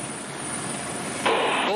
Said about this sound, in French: à bord de ce Caracal, hélicoptère transporteur de troupes du 4e régiment des hélicoptères des forces